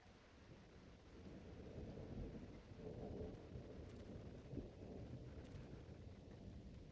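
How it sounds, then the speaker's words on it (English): Steady rain pours in a video game, a soft continuous wash with low thunder rumbling faintly underneath and swelling slightly at moments. "Kind of like the rain, it's nice and peaceful."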